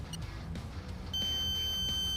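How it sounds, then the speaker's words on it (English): An RC flight timer on a transmitter lets out a steady high-pitched beeping tone partway through, heard over the whooshing rush of wind and an electric ducted-fan model jet flying nearby. "Here's my timer."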